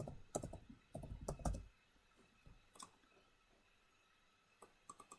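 Fingers typing a spreadsheet file name on a computer keyboard, a few quick bursts of clicky keystrokes at the start, then a pause and a couple of isolated taps near the end, close and quiet.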